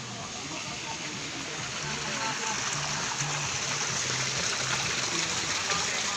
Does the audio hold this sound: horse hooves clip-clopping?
no